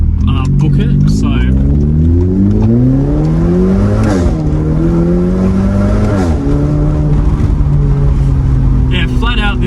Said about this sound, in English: flat out, this exhaust sounds really good.